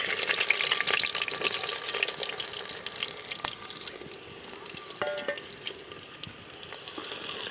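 Onions frying in a pan for dry duck meat in a Jharkhand tribal kitchen, a steady broadband crackling sizzle with occasional clicks and a faint tap or drip, running without talk.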